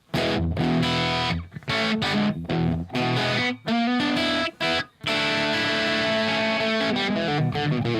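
Dry guitar with no echo effect plays steady, full strums. The chords ring loud and close and break off in a few brief gaps, with a sustained passage at the end and no voice over it.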